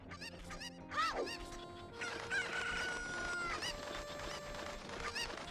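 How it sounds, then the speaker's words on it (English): Cuccos, the chickens of Ocarina of Time, squawking and clucking repeatedly in a game speedrun, a busy run of shrill bird calls with a falling squawk early on, fairly faint and continuous. "Oh, JDaddy threw the chicken."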